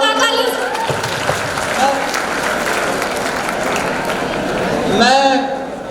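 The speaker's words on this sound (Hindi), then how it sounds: "जोरदार तालियां" Loud, sustained applause and clapping from an audience at a college civil engineering fresher event, a dense crowd roar that swells at the start and end.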